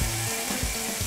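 A cordon bleu frying in a pan just after being flipped, a steady moderate sizzle with soft low thumps, heard close with no talking.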